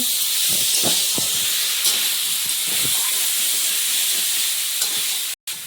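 Potatoes frying in a pan in a home kitchen give a steady, close hiss that runs almost unbroken, with faint clatters and movement beneath it, and a brief dropout near the end.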